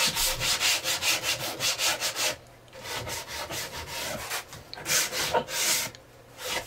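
A small handheld sanding tool rubbed over wood in quick, steady back-and-forth strokes, close and fairly loud, with a brief pause midway before the strokes resume.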